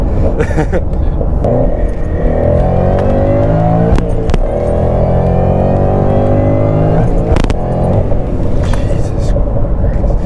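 A 550 whp Ford Mustang GT driving at road speed, its engine droning and rising through gears with tire and wind rumble, loud inside the cabin while someone talks over it.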